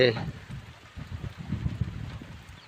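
Steady rain falling outdoors in a rural farming area during the monsoon, a soft continuous patter close by, with low rumbling hits beneath it and no talking.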